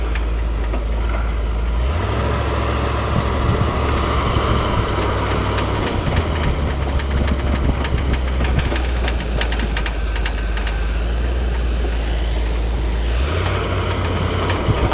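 A 1955 Chevy COE motorhome chassis drives under steady, loud engine drone with a low rumbling throb that rises and settles as it pulls along, heard from close by without talk.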